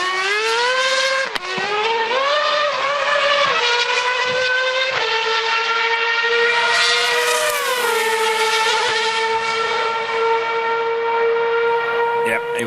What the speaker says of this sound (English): Liam Lawson smoking up the rear Pirellis in an RB7 once or twice around.